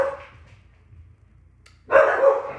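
Dogs bark inside a house, with a short burst at the start and then a louder bout of barking near the end, separated by a quiet stretch of low background hum.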